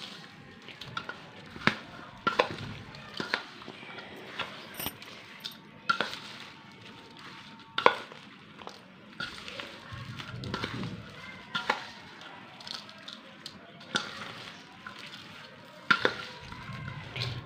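Pickle ingredients being mixed by hand in a bowl, giving soft repeated squishing and stirring sounds with occasional sharper clicks, close up and fairly quiet, with no talking.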